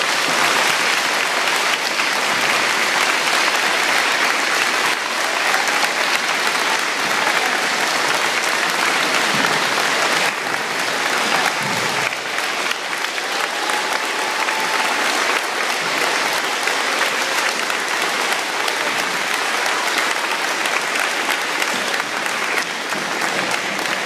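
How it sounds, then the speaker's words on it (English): Sustained applause from a school assembly audience honoring veterans: dense, even clapping that continues loudly for over twenty seconds with no pauses and almost no talk. "Let's have one final applause for all of these great veterans."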